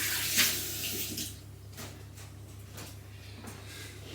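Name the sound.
tap water rinsing a potato and hands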